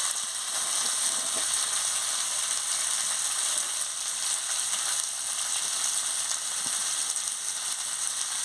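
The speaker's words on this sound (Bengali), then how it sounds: "এবার ফুলকপি আলুটা দিয়ে দিচ্ছি। ভালো করে একটু কষিয়ে নিচ্ছি।" Cauliflower and potato sautéing in a hot oiled pan for a fish curry, a steady, even sizzle and frying hiss throughout, close and continuous with faint stirring scrapes.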